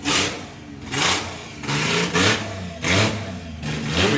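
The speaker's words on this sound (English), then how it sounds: "one of the most distinctive sounding engines. It doesn't sound like anything else" An Econorail drag racing car at a drag racing meet, its engine revving loudly in repeated bursts about once a second, each rev swelling and dropping back, close and raw with no talking.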